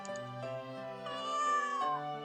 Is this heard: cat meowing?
yes